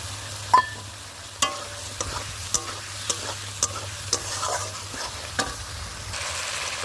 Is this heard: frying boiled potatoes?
yes